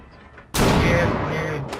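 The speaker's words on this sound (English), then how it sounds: "Throwing a flashbang." A flashbang grenade goes off in Rainbow Six Siege, a sudden loud broadband blast after half a second of quiet that holds as a sustained ringing roar to the end.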